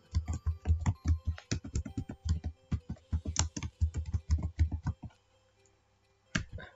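Rapid typing on a computer keyboard, a steady run of close, distinct key clicks for about five seconds, then a pause and a couple of final taps.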